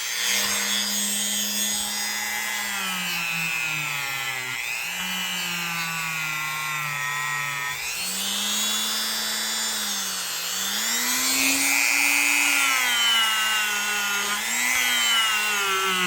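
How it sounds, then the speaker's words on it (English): Rusty blades are rubbed with number 7 rubbing compound in a continuous, droning scrub that rises and falls in pitch, loud and close, with no talking. "Just using the number 7 rubbing compound here. See if it's loosened this stuff up enough, it'll come off."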